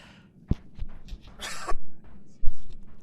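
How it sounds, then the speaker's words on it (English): A single sharp cough lands close to the microphone, followed by a few muffled bumps, a loud hissy burst and another thump, all near and fairly loud with no clear speech. "I hopefully didn't cough directly into the microphone there"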